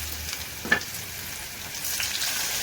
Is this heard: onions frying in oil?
yes